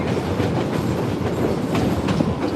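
Train on a Colorado railroad, heard from on board as a steady rumbling roll with clickety-clack from the wheels, loud and continuous.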